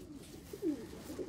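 Pigeon cooing from the Kleine Jade, a racing pigeon hen, with a soft low coo rising mid-clip over faint background rumble; no talking.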